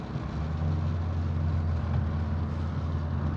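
A 1975 Volkswagen Passat Type 32 cruising in top gear, heard from inside the cabin as a steady low engine hum mixed with road rumble, even and continuous.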